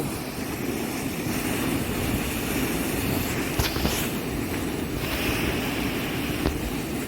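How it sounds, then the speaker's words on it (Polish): Water pouring steadily out of black pipes at the edge of a campsite field, a continuous broadband rush with outdoor wind noise, fairly loud and unbroken, with no voices. "ile wody z tych rur wypływa"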